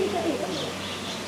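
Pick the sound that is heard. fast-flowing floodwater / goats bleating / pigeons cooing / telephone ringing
pigeons cooing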